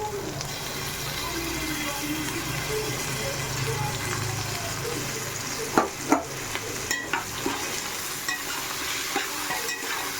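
Onions and ginger sautéing in a pan for paneer biryani, a steady close sizzle with a few sharp stirring clacks toward the end, and someone talking over it.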